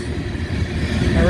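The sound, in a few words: wind blowing into the microphone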